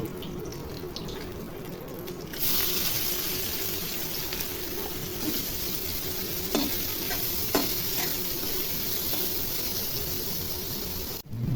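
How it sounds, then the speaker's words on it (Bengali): Onions hit hot oil left from frying prawns, a loud steady sizzle with occasional stirring clatter, after a quieter opening. "চিংড়ি মাছ ভাজা তেলের মধ্যে এখন পেঁয়াজ দিয়ে দিব"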